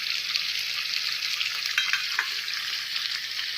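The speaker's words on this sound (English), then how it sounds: "This is my creamy mushroom and spinach sauce. Still needs to reduce a bit more, still a bit wet." Creamy mushroom and spinach sauce reducing in a pan gives a steady, close sizzle and bubbling hiss that runs unbroken throughout, with a few brief pops and no talking.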